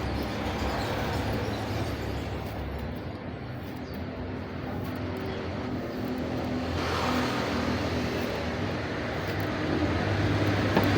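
Roadside traffic passing nearby, with trucks on the road: a continuous low rumble of engines and tyres that swells gradually, moderately loud and steady with no talk.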